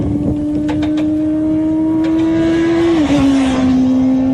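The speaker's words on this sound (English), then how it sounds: "with good throttle control, the bike looks and feels stable on its line and leaves the corner faster." A motorcycle powering out of a corner on a track, its engine a loud, close, sustained drone that dips in pitch briefly, like a shift, before holding steady again.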